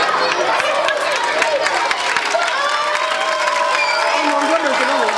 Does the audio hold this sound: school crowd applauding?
yes